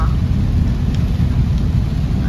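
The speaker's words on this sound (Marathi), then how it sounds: "पावसाने एकदम जोर घेतली बघू शकतो तुम्ही एकदम तुफान पाऊस आलेला आहे" Heavy rain pours down steadily with a deep, continuous rumble of thunder underneath, loud and unbroken throughout.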